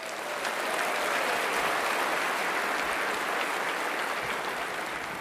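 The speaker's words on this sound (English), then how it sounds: "please join me in another round of applause for our team" Audience applause for a team at a premiere event, a steady, even patter of many hands that swells in and holds at moderate level, somewhat distant, with no talking over it.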